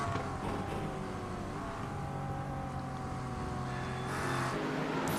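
Steady, droning engine tones of GT racing cars, including a McLaren, running close together at Watkins Glen in a sim racing game. A slight swell near the end hints at another car pulling alongside.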